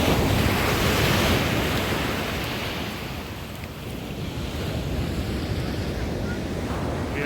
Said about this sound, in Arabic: هذا هو البحر اللي تحت الكورنيش.